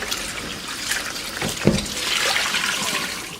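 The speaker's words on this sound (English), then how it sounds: "So you guys clean it till like the water gets like white or something clear." Tap water runs steadily over raw chicken wings in a kitchen sink during rinsing, a continuous splashing rush with a brief louder gush near the middle.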